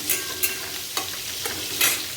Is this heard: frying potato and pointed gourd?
yes